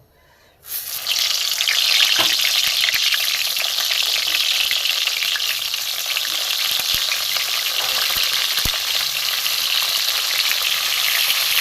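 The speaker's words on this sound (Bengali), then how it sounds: "আমি এবার আস্তে আস্তে বেগুনগুলো ভেজে নেব।" Brinjal pieces drop into hot mustard oil in a kadai, and a loud, even frying sizzle starts abruptly and holds steady, broken by a few faint clinks, with no one talking.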